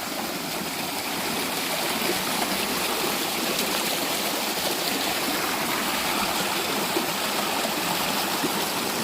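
A cool mountain valley stream flowing steadily over rocks, a constant soft rushing and burbling of water with no voices, even and unbroken throughout.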